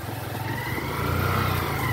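A motorcycle on a dirt trail through brush accelerates, its mid-pitched engine throbbing steadily and then rising in a louder rev about halfway through, close by.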